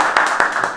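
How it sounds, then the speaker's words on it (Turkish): Applause for a show at a rented villa, a brief burst of scattered hand claps with a few sharper individual claps standing out, fairly close and alone without speech. "Tekrar alkışlar."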